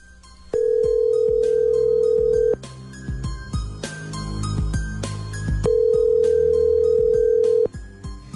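An outgoing phone call rings back with two long, steady tones separated by a pause, loud and close, with faint music beneath in between.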